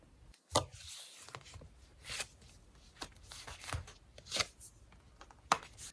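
Tarot cards shuffled and handled for an extra draw, a run of soft papery riffles and snaps with several sharper slaps spaced across the stretch, close and fairly quiet, with no talking.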